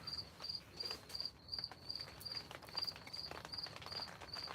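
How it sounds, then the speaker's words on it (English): Crickets chirp in a steady, rapid pulsing rhythm close by, with faint rustling underneath. "Hear the crickets? They get pretty loud here because they're right next to me, basically."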